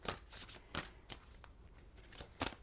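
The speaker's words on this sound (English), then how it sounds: "Okay, let's shuffle the cards." A deck of tarot cards being shuffled, giving several quick, crisp riffling bursts at an uneven rhythm, close and fairly quiet with no talking.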